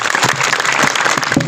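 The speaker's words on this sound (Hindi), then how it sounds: "जोरदार तालियां हो जाए इसके लिए" Dense applause fills a Republic Day cultural program at a district jail, a steady mass of clapping from a crowd that continues without a break for the whole moment.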